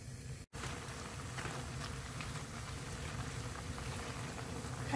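Ripe kimchi stir-fries in a pot for pork kimchi stew, giving a loud, steady crackling sizzle that runs without pause, broken only by a brief dropout near the start.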